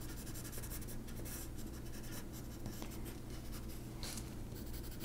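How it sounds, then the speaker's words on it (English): Pencil scratching across paper, a steady soft scraping that runs continuously and close-up while colouring the outside edge of a cloud drawing. "I'm actually going to draw on just slightly the outside edge with my pencil"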